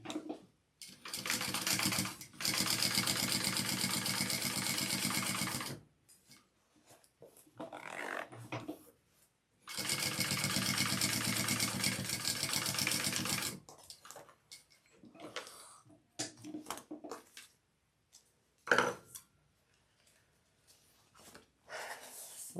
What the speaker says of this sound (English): Okay, go ahead and stitch that on. Sew that on.